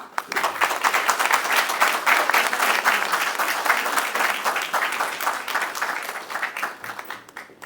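A crowd at a gathering claps loudly for Shahzad Qureshi and Salman Shah, a sustained, vigorous burst of many hands that stays full and even before tapering off at the end.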